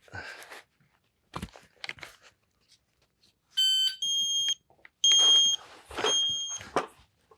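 An MDT Crush It stage shot timer at a shooting range gives a few loud, sharp electronic beeps in quick succession, set against brief rustling and handling noises.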